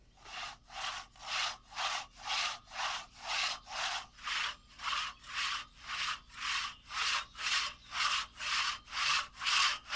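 A handsaw cuts through a wooden log with a steady back-and-forth rhythm, about twenty regular rasping strokes following one another close and loud with no talk.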